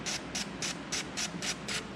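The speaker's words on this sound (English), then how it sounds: "That looks like a really good spray." A Fox Body Mustang fuel injector being cleaned sprays in rapid regular pulses, about eight short hissing bursts in two seconds, close and fairly quiet with no talking.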